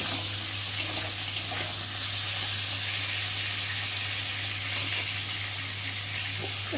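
Raw banana pieces fry in a pan, giving a steady close sizzle with faint stirring clicks throughout, no talking, over a low constant hum.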